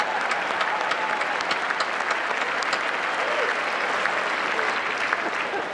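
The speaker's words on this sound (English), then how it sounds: "Let's give them a big round of" Dense, steady applause from a large banquet audience at the 2012 White House Correspondents' Dinner, loud and sustained for the whole stretch with a faint crowd murmur woven through.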